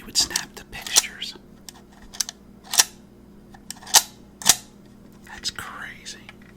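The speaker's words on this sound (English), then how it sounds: "Do you hear that? That's how you would snap the pictures." An antique camera shutter snapping pictures, about six sharp close clicks spaced roughly a second apart, with soft whispering in between.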